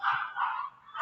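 Several dogs bark and yelp in a home, a dense, continuous and fairly loud chorus that fills the whole moment with no talk over it.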